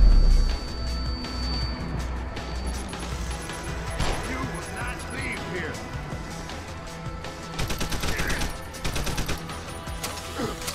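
Machine gun fire in the video game Deus Ex: Human Revolution, rapid bursts of close, loud shots clustered in the latter half over game ambience, with a voice talking at points.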